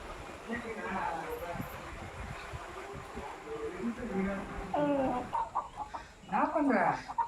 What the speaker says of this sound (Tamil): பெரிய சேவல் இது, கொஞ்சம் வயசாயிடுச்சு